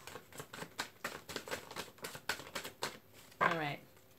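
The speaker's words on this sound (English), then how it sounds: "Okay, last shuffle." Tarot cards are riffled and tapped in a quick, crisp series of soft snaps. A voice speaks briefly near the end.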